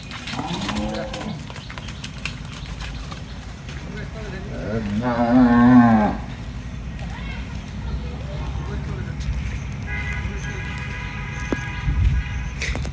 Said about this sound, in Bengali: আরও একটি চমৎকার পাকিস্তানি শাহিওয়াল বকনা আর কি প্রেগনেন্ট এইটাও